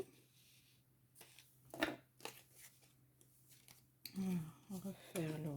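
Scissors snip through a piece of ribbon in a few short, crisp cuts with a faint papery rustle between them. Someone speaks quietly nearby.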